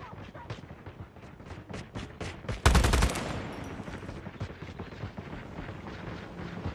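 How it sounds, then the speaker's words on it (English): Video game gunfire: a steady run of sharp, evenly spaced shots, then a sudden heavy burst of rapid fire at close range, followed by more scattered shots. "Guns blazing."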